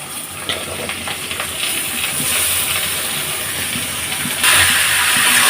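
Malabar spinach greens added to a hot pan with fried potatoes, giving a steady loud hiss and sizzle that swells and grows denser near the end, with no talking.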